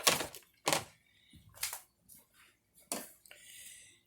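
A knife dicing a small leftover piece of onion on a cutting board, giving a few sharp, separate chops with short pauses between them, close and clear with no talking.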